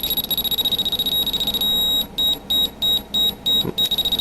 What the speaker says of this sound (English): If you hear the fast beeping, you know you're touching the metal